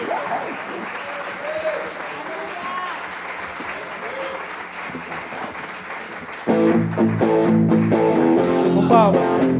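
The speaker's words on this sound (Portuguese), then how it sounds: "Com palmas." Church congregation clapping together in rhythm, a dense steady applause that swells suddenly louder partway through as music or singing joins in, with voices mixed underneath.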